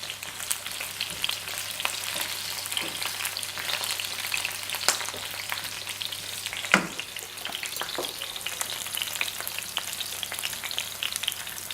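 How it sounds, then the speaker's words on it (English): Courgette halves sauté cut side down in hot oil, giving a steady, fairly loud sizzle with occasional sharper crackles and one brief clatter near the middle, with no voices. "Because again, you don't want them to stew, you want them to saute."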